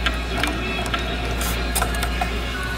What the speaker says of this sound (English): So if I try and turn this motor, it's very stiff